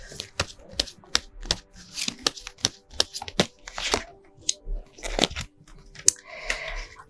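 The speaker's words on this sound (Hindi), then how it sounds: "आइए निकालते हैं आप लोगों के 3 कार्ड्स।" Tarot cards shuffled and drawn close up, with a quick run of crisp riffles, taps and slaps in an irregular rhythm, then a softer, scratchy brushing of cards at the end.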